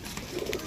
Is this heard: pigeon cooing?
yes